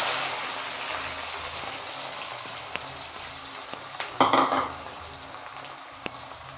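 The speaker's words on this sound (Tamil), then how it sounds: "வெங்காயம் கொட்டிக்கலாம்" Onions frying in a pan with popped mustard and fenugreek seeds for a sudumbu fish curry: a steady soft sizzle broken by occasional clicks of a spatula and a louder burst of scraping and stirring midway.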